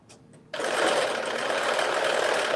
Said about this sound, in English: Again, I'm sewing this together at 5/8 of an inch.